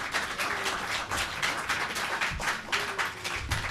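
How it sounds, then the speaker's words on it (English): A conference audience claps for a panel of speakers at a festival market event, a moderate, even patter of hands from a modest crowd, fairly soft and slightly distant. "So please, let's give them all a round of applause."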